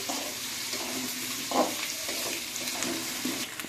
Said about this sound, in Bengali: আলুগুলো একটু মশলার সাথে কষিয়ে নেব